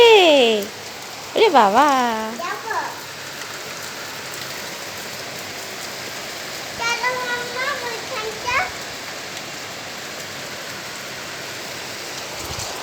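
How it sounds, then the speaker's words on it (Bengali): Heavy rain pours down in a steady, dense roar throughout, while a voice and a voice call out over it in short bursts near the start and again later. "কি বৃষ্টি পড়ছে রে!"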